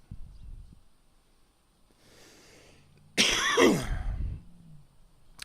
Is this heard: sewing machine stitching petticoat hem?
no